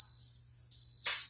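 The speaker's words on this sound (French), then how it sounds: "Je pensais que c'était une alarme pour le feu. C'est mon gaufrier qui est prêt." A waffle maker signals it is ready while cocoa keto chaffles cook, giving a shrill, steady electronic beep like a smoke alarm that briefly dips, then resumes, ending in a short noisy burst.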